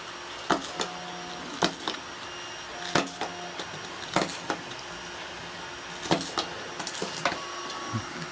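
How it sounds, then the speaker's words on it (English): A nut driver pushes spikes on fish pedals through grip tape, producing a series of sharp, close pops and clicks at irregular intervals, about a dozen in all, over faint background hiss. "you should be able to start taking the nut driver and popping them through"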